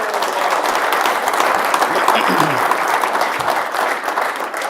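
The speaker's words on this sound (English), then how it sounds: "a round of applause." An audience at a presentation breaks into a dense, sustained round of applause that fills the room at a steady loudness for several seconds, with some crowd murmur mixed in.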